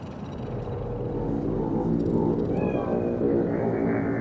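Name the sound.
cat meowing in the video game Cyberpunk 2077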